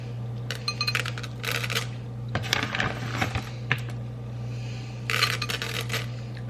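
A spoon clinks and scrapes against a bowl while scooping a handful into homemade batter, with several short clattering bursts over a steady hum, fairly close.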